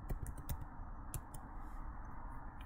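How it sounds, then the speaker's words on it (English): Fast typing on a computer keyboard into Notepad, a quick irregular burst of crisp key clicks heard close and alone over a low background hum. "I'm just going to type in Notepad."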